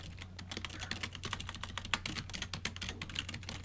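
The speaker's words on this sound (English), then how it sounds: "don't listen to my keyboard." Fingers tap rapidly and steadily on a computer keyboard, producing a continuous stream of close, crisp keystroke clicks with no voices.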